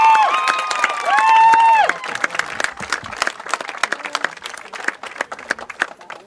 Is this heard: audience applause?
yes